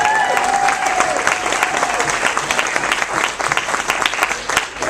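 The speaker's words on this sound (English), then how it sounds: "maybe if we could have a round of applause for Nancy Pelosi's retirement" Audience at a political talk applauding, a loud sustained patter of many hands clapping through the whole stretch with a few faint cheers.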